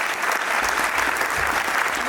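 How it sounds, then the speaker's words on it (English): An audience applauds after a Q&A following a screening of the Wedding Present film "Something Left Behind": steady, dense clapping from a room full of people, fairly distant and even throughout the short burst. "Can we have a round of applause?"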